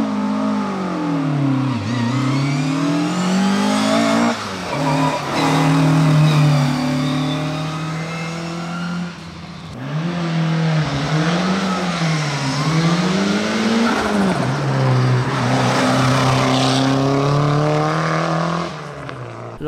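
Rally cars on a stage of the 2021 Zamudio Rally, engines revving hard and rising and falling in pitch as they accelerate, shift and pass nearby, one car after another in a continuous, loud roar.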